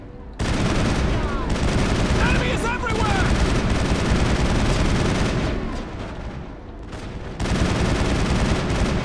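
Turret gunfire in the video game Mass Effect on a station level roars loud and continuous, a dense barrage of shots and booming blasts with a brief dip before it surges again.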